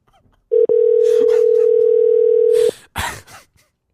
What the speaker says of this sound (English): Steve, call a number now